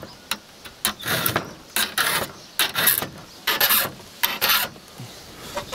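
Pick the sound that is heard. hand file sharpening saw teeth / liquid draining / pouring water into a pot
hand file sharpening saw teeth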